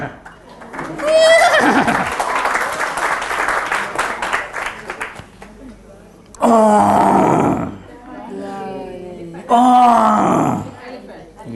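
Horse neighing played for a classroom lesson on animal sounds: a loud drawn-out whinny followed by two more shrill neighs separated by pauses, close and prominent.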